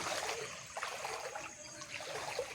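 Floodwater flows through a submerged village, a soft continuous trickling and rushing wash at low volume with no voices.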